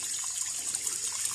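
Clear spring water from under the ground in a forest trickles and splashes continuously at a collection spot, a close, steady hiss with no voices.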